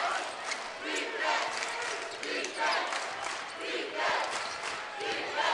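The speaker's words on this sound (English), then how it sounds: "Well, the crowd's chanting defense." Basketball crowd in an arena at a Morehead State vs SIU-Edwardsville game, chanting in loud rhythmic surges that swell and fade over a steady roar, with an announcer's voice talking over it.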